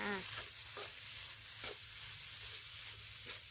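Rice stir-fried with Chinese sausage, egg, carrot and onion sizzles steadily in a pan, with a constant hiss and a few scraping stirs of the spatula, close and moderately loud.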